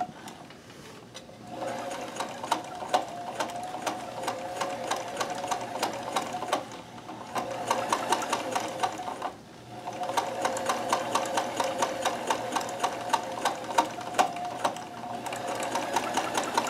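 Kenmore 158.1914 sewing machine chain stitching in fast, steady mechanical bursts, running in three long stretches separated by brief pauses, close and fairly loud with no talking.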